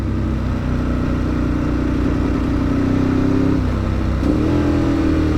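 Engine of an old motorcycle, a bike with known issues, drones steadily and close at a mid pitch, with a slight rise in revs near the end and no talk over it.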